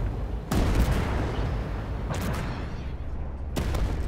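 Tank cannon fire in the video game Armored Warfare: three heavy booming shots spaced a couple of seconds apart over a low rumbling battlefield background, the first loudest.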